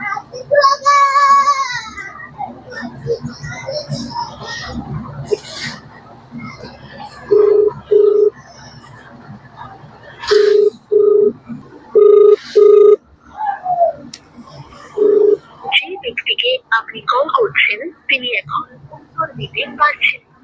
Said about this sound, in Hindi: अभी हम फोन कर रहे हैं यहाँ के मुखिया जो हैं उनको।